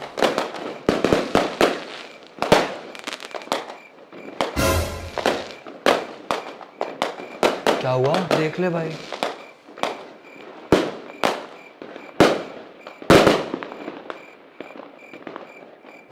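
Strings of firecrackers burst during Diwali in rapid, irregular volleys of sharp cracks, some close and loud and others fainter, with a brief spoken exchange in Hindi between the bursts.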